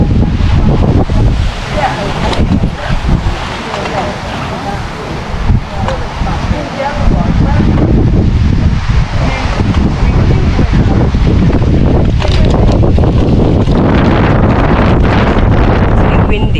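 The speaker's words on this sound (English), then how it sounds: "It's a bit windy." Strong wind buffets the microphone outdoors, a continuous loud roar and rumble throughout, with voices talking underneath.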